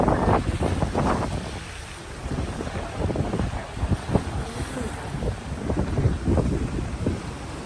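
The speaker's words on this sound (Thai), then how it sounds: "ลมแรงหน่อยนึง" Strong storm wind buffets the microphone at Laem Thaen on the coast at night, a loud, gusting roar with surf-like swells that rises and falls throughout.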